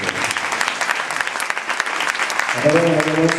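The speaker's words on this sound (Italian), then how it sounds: "Applauso" Lively applause from a theatre audience after a stage comedy performance, brisk clapping for about three seconds, with a voice starting to speak over it toward the end.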